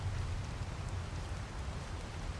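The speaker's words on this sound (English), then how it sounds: "of course it's gonna rain when I start this video" Steady rain falls in the video game Ark Survival Evolved, a quiet, even hiss with a soft low rumble underneath and no other sounds.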